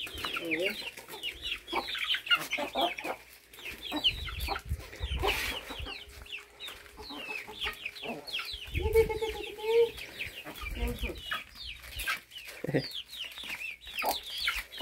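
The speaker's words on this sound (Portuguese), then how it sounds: "Olha, pessoal. Galinha aqui do sítio." Farm chickens cluck steadily at feeding time on a rural smallholding, with many overlapping calls from a nearby flock and a few louder squawks over soft background noise.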